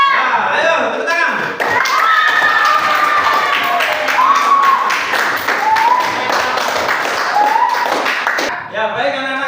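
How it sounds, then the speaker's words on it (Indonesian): A school class claps together after a lesson, fairly close and loud. The irregular clapping runs throughout, with voices calling out and brief high tones over it, then cuts off near the end. "Ya, ayo tepuk tangan."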